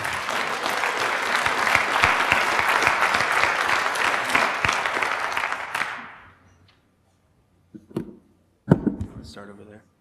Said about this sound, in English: Give them a round of applause to get them started here.